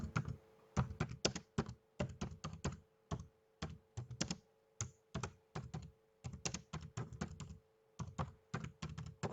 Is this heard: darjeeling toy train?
no